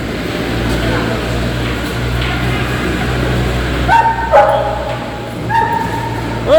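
A large dog yips and barks in short bursts at a cable car station in Zagreb, Croatia. The barks sit over a steady mechanical hum, with people talking nearby.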